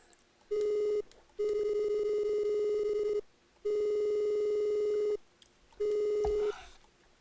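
A black cell phone ringing in the Cthulhu Mythos RPG video game: four clear electronic ring bursts, each a steady tone lasting about a second or more, separated by short silent gaps.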